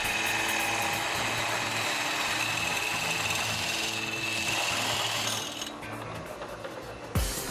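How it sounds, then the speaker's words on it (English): A circular bit drills a mountain bike frame tube in a factory, giving a steady whirring, grinding machine drone with a high whine that eases off toward the end, closing with a brief clunk. "it's drilled with a circular bit the same size as the tube to which it'll be connected"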